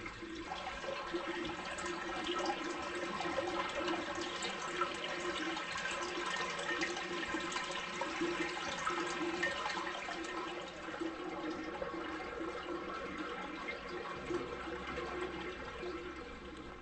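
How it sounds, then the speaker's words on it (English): Water rushing loudly through the central drain of a stone culvert, a constant roaring wash that stays steady and close throughout with no voices. "The central drain carries on just there. It's very, very noisy"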